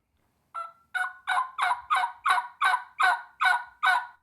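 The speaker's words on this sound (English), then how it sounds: "the basic rollover yelp is breathing the word chirp," Rollover yelp on a custom turkey call, ten evenly spaced, close and loud raspy yelps in a quick steady rhythm with no talk over them.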